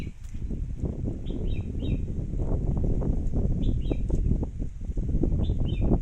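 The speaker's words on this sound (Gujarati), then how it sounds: "પક્ષીઓનો અવાજ આવે છે" Birds chirp outdoors beside the Tapi river, short twittering calls repeating in small clusters over a steady rush of wind noise.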